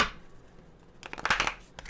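Tarot cards being shuffled, a faint hush followed by a quick burst of crisp riffling snaps lasting under a second, close and alone.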